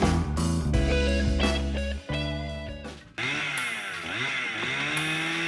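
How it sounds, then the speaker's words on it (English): An early-1990s Husqvarna 61 chainsaw mills wood slabs, a loud close engine snarl that revs and bogs as it cuts, with a brief dip before pitch rises again. "The chainsaw featured in this footage is an early 90s Husqvarna 61."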